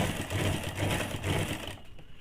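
Sewing machine stitching a collar onto a high-neck blouse, a close, steady buzzing run of quick needle strokes with slight pulsing, ending abruptly near the close, no talk.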